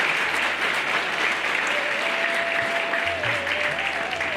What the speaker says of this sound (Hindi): इन सब के लिए जोरदार तालियां नचिकेता ग्रुप के लिए